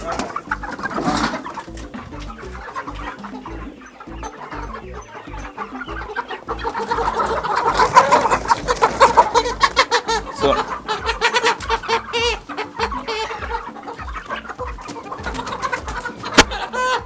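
Kuroiler hens cluck and murmur continuously in a busy coop, several birds close by, with occasional louder squawks rising over the steady chatter.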